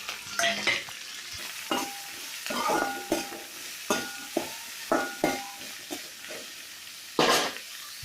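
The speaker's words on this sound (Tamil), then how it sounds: "வெங்காயம் நல்லா வதங்கிருச்சு." Chopped onions with fennel seeds, curry leaves and green chillies sautéing in oil in a kadai for chicken gravy, with repeated stirring scrapes and clinks over a steady soft sizzle, no voices.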